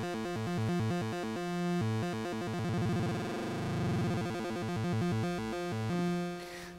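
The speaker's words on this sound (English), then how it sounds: "what was popular on Commodore 64s was to actually just modulate one oscillator." Commodore 64 style chiptune arpeggio from a Raspberry Pi and Commodore 64 synthesiser, one oscillator rapidly stepping through notes in a steady repeating pattern, moderately loud with no voice.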